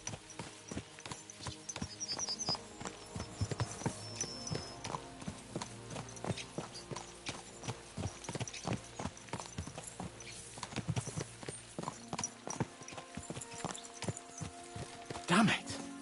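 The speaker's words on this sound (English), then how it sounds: "Let's really spur these horses on, eh?" Horse hooves clip-clopping at speed in the medieval video game Kingdom Come Deliverance 2, a steady rapid beat under game music and ambience, with a voice talking over it.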